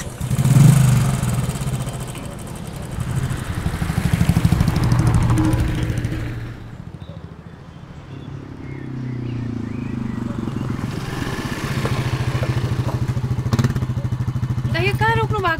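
A motorcycle rumbles steadily along a road, its engine loud and close throughout, dipping briefly midway before picking up again, with people talking over it.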